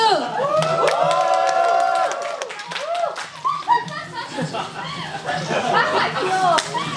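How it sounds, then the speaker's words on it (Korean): Fans clap at a GFRIEND fan signing event, a burst of claps mixed with crowd cheering, laughter and talk, fairly loud and close. "박수!"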